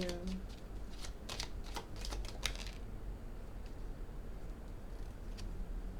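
Tarot cards are shuffled in a quick run of soft, rapid flicking and riffling for about three seconds, then give way to quieter, sparse card sounds laid close to the microphone.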